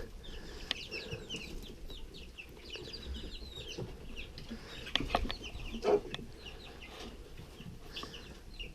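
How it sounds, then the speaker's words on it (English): Chickens cluck softly inside a coop, with scattered low calls and some rustling and movement, a few louder clucks near the end, the whole scene fairly faint. "they're actually chickens that are still in here having a bit of a party together and having a bit of fun"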